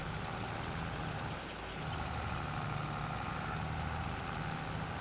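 A tractor engine in Farming Simulator 22 runs at a steady mid-pitched drone, with a faint rhythmic knock under the hum, holding even and continuous throughout.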